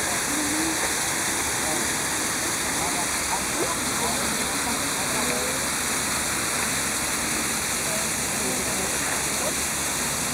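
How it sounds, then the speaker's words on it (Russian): Small waterfall in a city park spilling over rocks and stones, a constant rushing splash of water close by, steady and broadband with no breaks; light rain may be falling. "Наконец-то подошла я к водопадику. Он тут такой маленький, но, тем не менее, все равно красивый."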